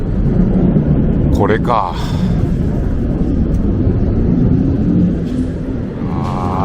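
Loud military jet aircraft roar over a street near Kadena air base in Okinawa, a heavy continuous rumble filling the whole clip while someone speaks briefly over it.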